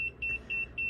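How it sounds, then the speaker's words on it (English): Repeated electronic beeps from an EMF meter set about three inches from a computer, sounding in an even rhythm of four short tones over a low background hum. "I know the beeping's annoying"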